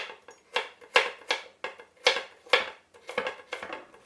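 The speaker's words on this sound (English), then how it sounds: "since the carrots are not too thick, I'm just gonna slice them" Knife slicing through whole rinsed carrots on a cutting board, a run of crisp, evenly spaced chops with sharp board taps, close and clear with no talk.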